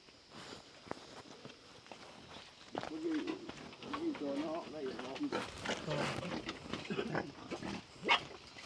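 Pigs grunting and shuffling in a pen built entirely of bamboo, heard at moderate distance under fairly continuous talk, with scattered footsteps and rustling.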